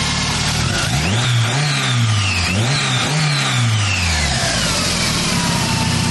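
A turbocharged Mazda Miata engine revs loudly and close up, climbing and dropping in pitch a couple of times before settling back to a steady idle-like drone.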